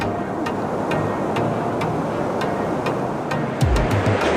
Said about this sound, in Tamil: நடுவில் ஒரே ஒரு ஃபால்ஸ் இருக்கும்.